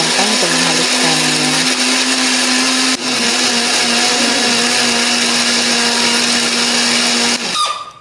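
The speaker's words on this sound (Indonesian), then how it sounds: "Bumbunya akan kita haluskan ya. Beri sedikit air atau minyak supaya lebih gampang untuk menghaluskannya." Blender grinding a spice paste of chili, shallot, garlic and turmeric with a little water or oil, a loud steady whirring drone close up that runs for about seven seconds before winding down.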